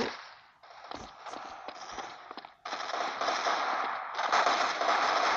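Game explosions and rapid gunfire in Fortnite, where flashbang grenades are used: dense crackling bursts and repeated sharp reports, loud and near, with a brief gap midway before the noise resumes fully.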